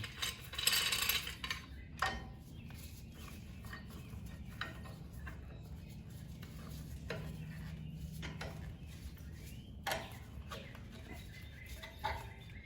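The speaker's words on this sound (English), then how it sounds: "I'm taking a C-clamp and the old brake pad and just pushing these pistons back in." Creaking, ratcheting turns of a C-clamp pressing old brake pads against the caliper pistons on a fifth-generation Toyota 4Runner, faint and close with scattered clicks and metallic knocks.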